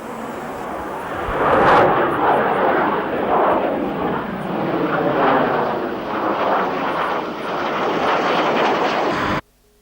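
A Mirage fighter jet roars past, loud and continuous, swelling and easing for several seconds before cutting off abruptly.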